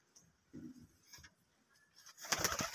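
A pigeon that grew up from a chick in a home loft and has since laid eggs coos softly in low, intermittent bursts, followed by a louder, brighter rustling clatter near the end.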